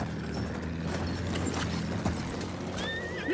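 A horse whinnies near the end, ridden in the video game Battlefield 1, over continuous battlefield noise with scattered mechanical clicks.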